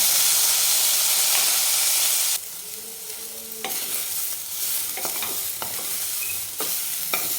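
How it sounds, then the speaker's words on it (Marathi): Cowpea pods and potatoes roasting in a hot pan, a steady sizzle and hiss broken by repeated scraping stirs of the spatula, close and alone with no voices. "कंटिन्यू आपल्याला याला हलवत राहायचं ह्याला आणि छान भाजून घ्यायची"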